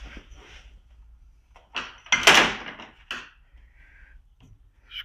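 A plastic part of a 2000 Ford Expedition moonroof is pushed back into its groove, making a few short knocks and one sharper snap nearby, with scraping in between.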